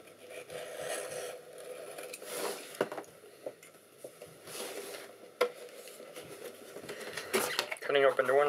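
A blade scrapes and slices through the cardboard box of a Razer BlackWidow Ultimate Chroma keyboard, giving irregular rasping cuts and a few sharp snaps over soft room noise.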